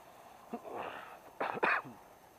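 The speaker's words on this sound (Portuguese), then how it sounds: "Com a tosse danada." A couple of harsh, throaty coughs close by, the second burst louder and sharper than the first, with brief quiet between them.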